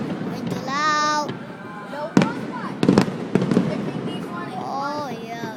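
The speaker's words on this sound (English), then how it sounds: "Yeah, there's so many fireworks." New Year fireworks bursting near and far, several sharp cracks and booms with crackle, under a child's and an adult's excited talk.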